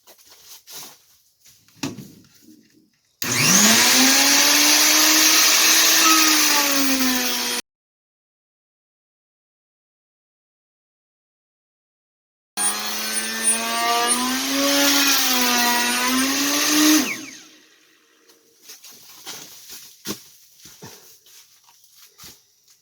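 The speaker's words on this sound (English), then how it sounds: "you want to really make sure you're holding on to this router" Router riding on an adjustable router sled and cutting into wood: two long, loud bursts of high, whining motor roar with rough cutting noise, separated by several seconds of silence, with faint handling knocks before and after.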